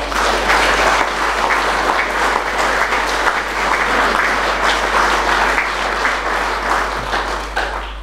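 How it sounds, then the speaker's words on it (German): Audience at a political rally breaks into sustained, loud applause, a dense wash of clapping from a large crowd that holds steady for about eight seconds with a faint low hum underneath. "Applaus"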